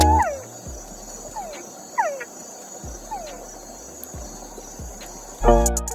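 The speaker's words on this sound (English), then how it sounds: "So here we're observing this bigger frog" Frogs in the Corcovado National Park rainforest in Costa Rica give sharp, descending chirping calls, repeating about once a second over a soft bed of insect noise, with a brief thump near the end.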